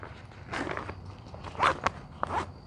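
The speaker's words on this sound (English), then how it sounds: "Easy operating zippers." Zippers being worked on a North Face Terra 50L backpack: several short, close rasping zip strokes with small clicks and rustles between them, no talking.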